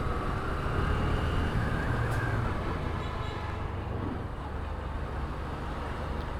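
Traffic stuck in a jam on a highway toward Bogura, a low continuous engine and road rumble with passing vehicles, including buses, steady and moderately close with no voices.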